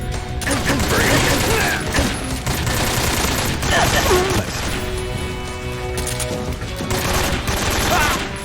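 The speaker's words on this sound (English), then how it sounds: "Okay, well they're shooting from somewhere." Sustained gunfire from enemy soldiers in Metal Gear Solid 3: Snake Eater crackles in dense, rapid bursts over game music and alert sounds, loud and continuous, with someone talking over part of it.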